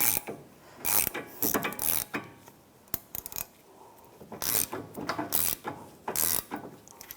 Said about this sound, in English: You're going to use a 17mm ratchet wrench and a 7mm socket.